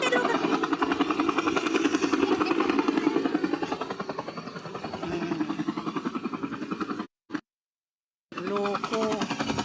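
A helicopter engine running close by, a loud continuous whine over a rapid rhythmic rotor chop, cutting out briefly before resuming, with people talking over it.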